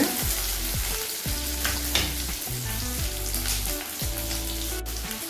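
Spices and curry leaves fry in hot oil for a sunsauce of sundakkai vatha kuzhambu with garlic, pepper and cumin, giving a loud, steady sizzle with crackling and occasional stirring scrapes, with no talking.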